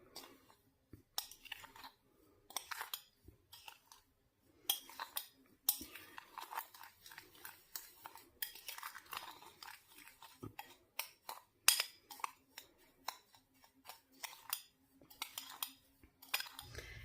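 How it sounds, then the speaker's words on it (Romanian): A utensil mixes sugar, cinnamon and vanilla in a bowl, making bursts of light scraping and clinking against the bowl with short pauses between, close and quiet. "Într-un bol am pus zahăr, scorțișoară și puțină vanilie. O să amestecăm tot."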